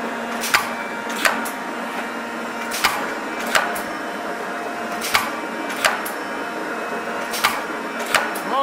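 A metal shaper machine takes light cuts, about 40 thousandths deep, with sharp regular clicks at each ram stroke roughly every 0.7 seconds over a steady mechanical hum.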